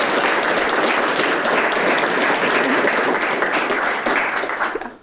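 Loud, close applause from a conference audience for a C++ talk speaker, many hands clapping in a dense continuous roar before tapering off at the end.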